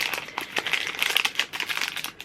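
Crinkling plastic wrapper on a snack from a monthly subscription box being opened, a close, busy run of sharp crackles and rustles lasting a couple of seconds with no voices.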